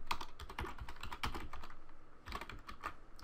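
Rapid typing on a computer keyboard, a steady run of close, crisp key clicks with brief pauses and no talking, while text is entered into an HTML file.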